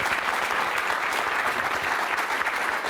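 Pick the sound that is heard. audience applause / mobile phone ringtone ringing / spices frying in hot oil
audience applause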